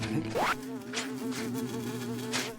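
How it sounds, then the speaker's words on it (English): An Argentinian wasp buzzes close by with a steady drone in a game-show obstacle course setting, its pitch briefly sweeping upward near the start, then holding under faint background noise. "we still have Steve, who's being bothered by an Argentinian wasp"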